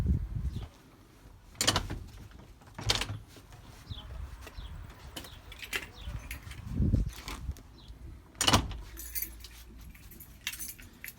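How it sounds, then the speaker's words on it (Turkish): A motorized automatic door closes with an uneven run of clanks, knocks and mechanical thuds, moderately close, ending with a few lighter clinks. "Otomatik bir kapı."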